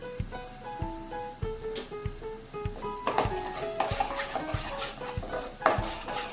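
A metal spoon scrapes and taps rhythmically against a pan while spices are stirred into chickpeas and potatoes. The clinks come at a steady pace under soft background music.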